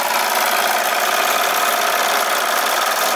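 A modified Wilesco D32 model toy steam engine running on live steam, giving a loud steady hiss with a fast mechanical chuffing underneath, unbroken and close throughout.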